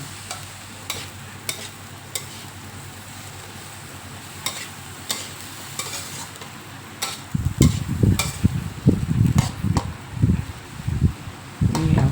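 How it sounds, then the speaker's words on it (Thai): Cabbage stir-fried with pork, oyster sauce and fish sauce sizzles steadily in a pan, with spatula scrapes and clatters growing louder and busier in the second half; no one speaks. "ตามด้วยน้ำปลาจ้า เราก็ผัดให้เข้ากันเลยนะคะ"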